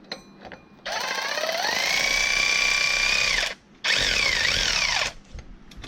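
A power drill or impact tool runs in two sustained bursts, the first about three seconds and the second shorter, tightening a bolt on a power steering high-pressure hose of a 1997 Toyota Supra 2JZ-GTE, close and loud with no talk.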